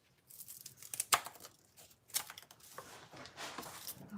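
Scissors snipping farmers market produce, a few sharp irregular cuts mixed with crinkling and rustling of stems or packaging, close and fairly quiet, no talk.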